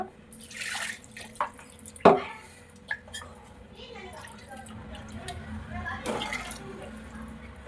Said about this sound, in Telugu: కాస్త వాటర్ యాడ్ చేసుకుంటా